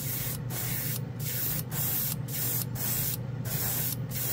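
KBS Diamond Finish clear coat sprayed from an aerosol onto a plastic model part painted Tamiya metallic blue, a series of short hissing bursts of varying length, close and fairly quiet, with no talking.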